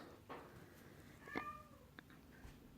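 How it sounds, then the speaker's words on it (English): A house cat lets out one faint, brief meow in a quiet indoor room. "Sorry, that was the cat."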